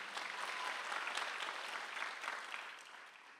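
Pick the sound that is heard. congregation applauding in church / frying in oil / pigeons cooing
congregation applauding in church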